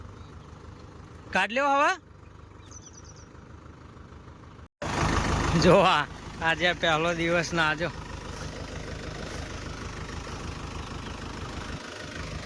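A Mahindra tractor engine drones steadily at mid pitch in a farm field on the first day of field work, its tyres sinking in soft ground. People talk over it now and then.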